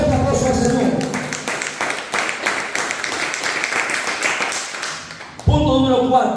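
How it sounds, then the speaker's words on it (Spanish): A church congregation claps together in a steady, fairly loud round of applause that lasts several seconds. It is mixed with voices and stops abruptly as a single voice cuts back in. "Denle un fuerte aplauso al Señor."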